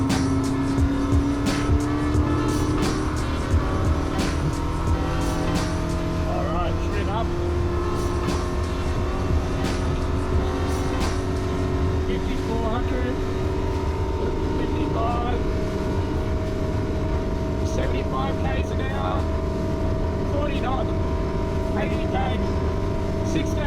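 A Seafarer Victory 6.2 hardtop boat with a Yamaha F200 outboard accelerates hard from a standing start, its engine note rising and droning loudly and steadily over rushing water and wind.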